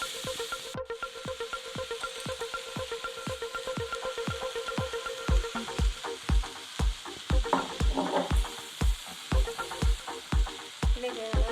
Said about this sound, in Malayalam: ചക്കയും തേങ്ങയും എല്ലാം കൂടി ഒന്ന് വഴറ്റിയെടുക്കാം